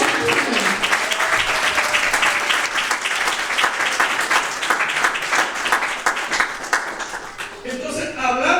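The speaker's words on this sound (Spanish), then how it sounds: "Dale un aplauso a Cristo" A church congregation applauds loudly for Christ with sustained clapping for several seconds. A voice rises over the applause near the end as it begins to fade.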